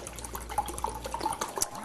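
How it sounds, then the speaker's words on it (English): Chicken broth pours into a glass liquid measuring cup, a steady close trickle and splash of liquid running for a couple of seconds with small gurgling bursts. "I'm going to pour out a cup of chicken broth"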